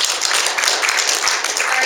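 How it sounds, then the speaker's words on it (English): Loud, sustained applause from an audience at a poetry reading event, a dense hiss of many hands clapping evenly throughout, close and without pause. "So if you would all join me in a round of applause for Alan."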